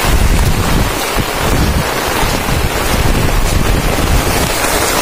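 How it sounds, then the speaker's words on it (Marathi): Strong wind roars in steady broadband gusts against the microphone during heavy monsoon rain in Rajapur, Konkan, loud and continuous throughout with no voices. "वारा बिरा सुटलाय मस्तपैकी"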